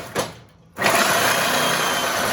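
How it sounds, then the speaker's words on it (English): A Sawzall reciprocating saw cuts into the steel frame of a 1995 Jeep Wrangler: a brief stir, then a short quiet gap, and then a loud, continuous, close buzzing grind. "Now we're going to go across the bottom with the sawzall."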